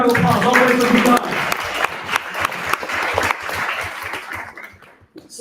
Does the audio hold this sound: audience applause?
yes